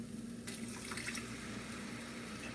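Water is poured from a cup into taco seasoning for ground beef, a short, soft splashing pour that swells for under a second against low background hum.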